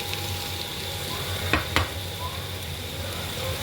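Beef and koorkka (Chinese potato) with onion being stirred and fried, a continuous close sizzle with a couple of sharp utensil clicks partway through, no talking.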